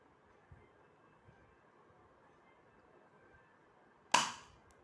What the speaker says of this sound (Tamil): இப்போ வந்து நான் எங்கிட்ட இருக்க டெடி பியர் மேலே சுட்டு காட்டுறேன்